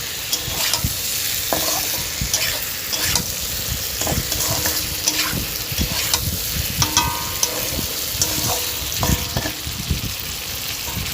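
Ridge gourd and potato curry with water added is stirred in a pan, a steady wet scraping and stirring over a low bubbling sizzle, with repeated spoon strokes and clinks throughout and no talking.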